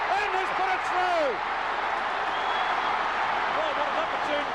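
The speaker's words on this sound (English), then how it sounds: "Listen to the crowd." A large Grand Final football crowd between Carlton and Essendon roars in a sustained, loud cheer after a goal, with whistles and shouts in the dense wash.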